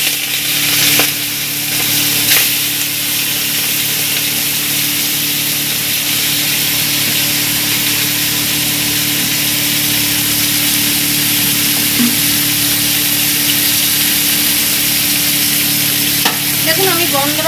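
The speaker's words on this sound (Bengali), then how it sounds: "আমার কড়াই তেলটা গরম হয়ে গেছে, এবার আমি চিংড়ি মাছটা হালকা করে ভেজে তুলে নেব।" Prawns sizzling in hot oil in a wok, a loud, steady crackling hiss that holds evenly for the whole stretch, with an occasional scrape of stirring.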